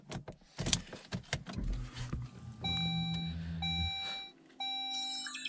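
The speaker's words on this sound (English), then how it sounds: "Let's check the dash cam starts up when I turn ignition on." A hardwired dash cam chimes with a series of clear electronic beeps as a car's ignition comes on, following thumps and clunks inside the car.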